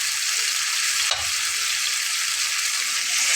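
Chopped ridge gourd frying in a pan as it is stirred, a dense continuous hiss of sizzling with a brief scrape of the spatula partway through, close and steady.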